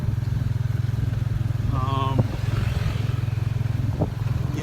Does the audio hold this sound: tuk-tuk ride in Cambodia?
yes